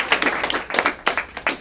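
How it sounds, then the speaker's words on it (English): An audience in a church in Austin gives a brief scattered round of applause, uneven bursts of clapping rising and falling for under two seconds. "both a round of applause for being here today?"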